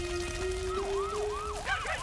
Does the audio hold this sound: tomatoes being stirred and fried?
no